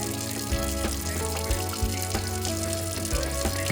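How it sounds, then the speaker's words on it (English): Dirty soaking water is poured off black-eyed peas into a sink, a steady close splashing pour that runs the whole time beneath background music. "we're going to pour this water out here"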